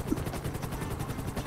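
A helicopter in the video game FivePD, a police mod for GTA V, makes a steady rhythmic rotor thumping, moderately loud and continuous, with no voices.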